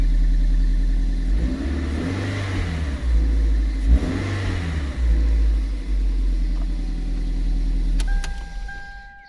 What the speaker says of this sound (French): Sonorité du moteur de la Toyota MRS, équipé d'un silencieux Sebring.